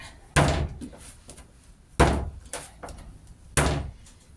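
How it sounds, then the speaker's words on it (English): A lump of porcelain clay is slammed down hard three times at even intervals while being wedged. Each slam is a loud, close, dull thud with a brief follow-up knock, and no one talks. "So if I'm slamming it down a few more times here and there just to get it in the shape that I want."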